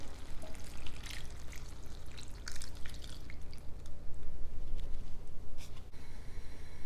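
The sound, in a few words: pouring masala water into a pan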